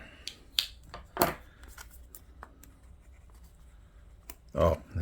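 A small knife slicing open packaging during an unboxing gives a few short, close scraping and cutting bursts, with quiet handling clicks between them.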